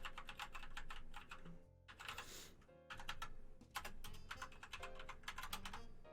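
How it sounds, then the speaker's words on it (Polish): Keys pressed on a Sharkoon Skiller MECH SGK1 mechanical keyboard: fast bursts of crisp, close clicking in quick runs, broken by short pauses and one brief rustle, loud and alone. "Mogę sobie całą klawiaturę tak obciskać."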